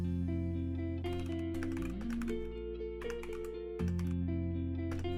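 Typing on a custom-built keyboard with cherry profile keycaps and quiet stabilizers: quick clusters of close, crisp key clacks in short bursts, played over steady background music with no speech.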